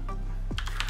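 Rapid clatter of keystrokes on a computer keyboard while answering an online logo quiz, a few close, crisp taps clustered toward the end over a low steady hum.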